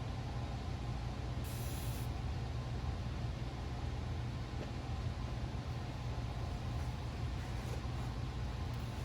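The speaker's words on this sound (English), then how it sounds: "Another thing I really enjoy doing is spraying and letting drips happen." Paint sprayed onto an abstract painting gives a steady, even hiss that runs throughout at moderate level, over a low background rumble, with no speech.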